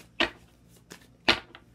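Two crisp, papery riffles of shuffling tarot cards, close by, separated by a short pause, with a softer flick between them.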